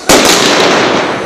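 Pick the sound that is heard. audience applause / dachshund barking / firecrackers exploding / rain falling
firecrackers exploding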